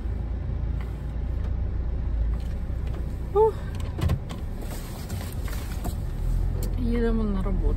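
A car drives along a drizzly road, with a steady low road and engine rumble inside the cabin, a few clicks and a voice briefly speaking over it.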